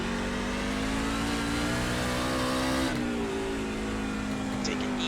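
A race truck engine in the iRacing simulator of a NASCAR Class C series on a hilly wine-country circuit, droning steadily at high revs with a brief dip in pitch partway through as the throttle eases, with speech over it.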